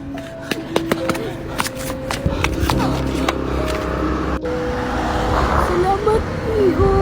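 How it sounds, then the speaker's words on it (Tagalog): A car approaches along a road, its engine and tyre noise swelling steadily under excited talk and scattered clicks and knocks. "May paparating na sasakyan!"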